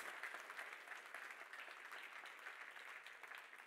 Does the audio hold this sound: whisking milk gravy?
no